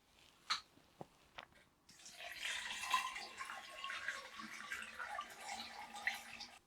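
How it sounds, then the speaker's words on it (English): Banana-and-honey juice poured through a muslin cloth set in a funnel for homemade wine, a steady splashing trickle that runs continuously after a few short knocks at the start, fairly close and moderately loud. "I'm just going to put a cheesecloth or muslin cloth in the funnel."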